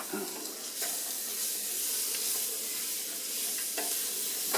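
Vegetables cook in a pot for chicken and dumplings, giving a steady, close frying hiss broken by a few light stirring knocks.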